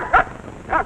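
Two short dog barks used as a sound effect in a 1949 Suspense radio broadcast, spaced about half a second apart and fairly close, with no talking.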